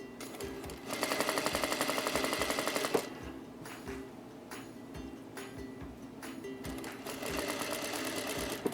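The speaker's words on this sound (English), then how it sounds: "And I'm just going to keep on stitching." A sewing machine stitching an invisible zipper into a partially lined garment, a rapid, steady mechanical chatter in close bursts, pausing in the middle before starting up again.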